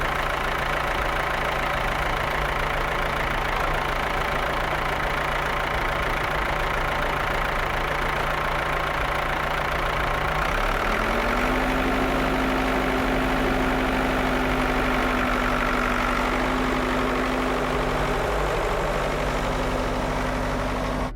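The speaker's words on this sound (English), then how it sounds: "The wheels of the massive hauler inch over the rocks." A massive hauler truck inching over rocks, its heavy engine droning steadily and loudly throughout, with the engine note rising partway through and then holding.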